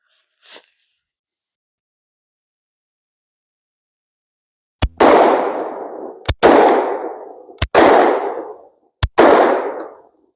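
Four loud, close shotgun blasts of double-aught buckshot ring out at irregular intervals, each sharp crack followed by a long booming decay, after a short quiet lead-in.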